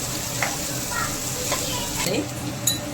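Sliced okra stir-frying in a generous amount of oil for a dry Maharashtrian bhendi bhaji, giving a steady close sizzle with occasional soft scrapes of the spatula against the pan.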